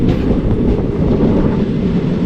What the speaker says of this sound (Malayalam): ട്രെയിൻ ഇത് നല്ല സ്ലോ ആയി